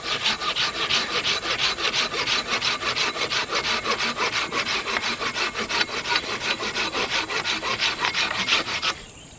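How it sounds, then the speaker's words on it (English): A folding saw cuts through firewood twigs at a campsite in fast, steady back-and-forth strokes, a loud, close, raspy sawing that runs without a break and stops abruptly near the end. "Now let's try to use this folding saw."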